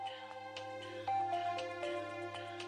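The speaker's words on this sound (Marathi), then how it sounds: "दरवेळी मी तुमच्या बरोबर असते तेव्हा रिहीचा फोन येतो." A phone ringtone playing a short repeating electronic melody, close and moderately quiet over a low steady hum, with no talking.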